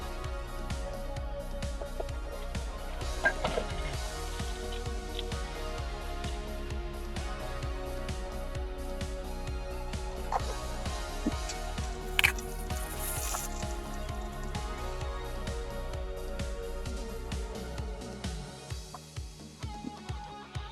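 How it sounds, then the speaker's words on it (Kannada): Tomato slices, chillies and garlic fry in a lidded pan, giving a continuous soft sizzle with wet squishing pops and drips, close and fairly quiet, with no talking. "ಈಗ ಲಿಡ್ ಕ್ಲೋಸ್ ಮಾಡಿ ಫ್ರೈ ಹಾಕ್ಬಿಡೋಣ"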